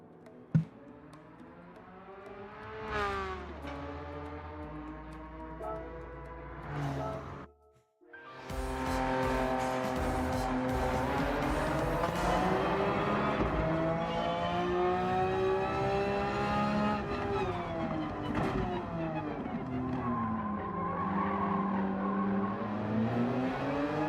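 A rear-engined race car in Gran Turismo 7 revs and accelerates through its gears, engine pitch sweeping up and down with a brief cut near the start, then a sustained loud drone.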